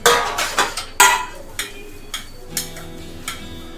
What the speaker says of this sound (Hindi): अभी मैं बर्तन घिसूंगी।